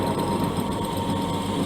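A drilling machine runs steadily after being switched on, giving a constant loud mechanical whir and hum with no break or talking over it.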